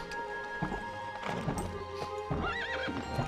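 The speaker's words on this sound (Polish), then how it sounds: "Koń nas wyniuchał." A horse in a video game gallops and whinnies, clip-clopping hooves and scattered thuds leading into a loud, shrill, wavering neigh near the end, all heard close.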